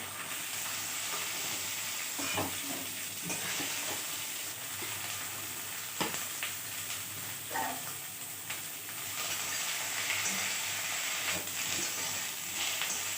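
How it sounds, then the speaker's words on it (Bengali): Eggplant fries in oil with a steady, quiet crackling sizzle, broken by occasional clinks and scrapes of a utensil in the pan, close by and without speech. "বেগুনটা ভাজা হয়ে গেছে, বের করে দেবো।"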